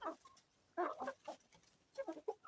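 A chicken clucks in short bursts nearby, a few quick clucks then a pause and another cluster, with outdoor quiet between.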